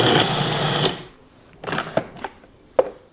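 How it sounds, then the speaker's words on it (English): A food processor pulsing dates with wet ingredients: a steady whirring motor burst that cuts off, followed by a few short pulses and clacks. "we're going to pulse this until all of the wet ingredients are incorporated and those dates are chopped up really well"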